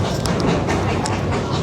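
An old heritage steam train runs on a countryside line in Australia, giving a close, continuous rumble with rhythmic chuffing and rattling throughout.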